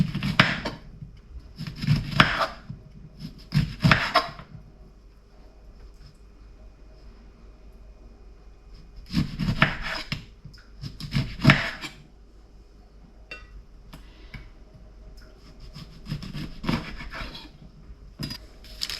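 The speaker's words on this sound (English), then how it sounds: "And then final ingredient, we slice some lemon." Lemon being sliced with a knife on a board while cooking freshly caught bass outdoors, heard as several separate bursts of rasping cuts in short clusters, close and fairly loud, with quiet pauses between.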